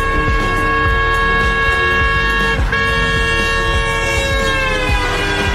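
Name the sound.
siren or car horn passing by, Doppler effect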